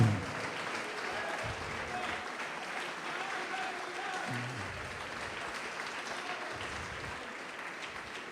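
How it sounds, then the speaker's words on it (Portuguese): Church congregation applauding during a sermon, a fairly quiet, sustained patter of many hands clapping in a reverberant hall, steady for the whole stretch. "Pode aplaudir, glorificar a Deus, irmão."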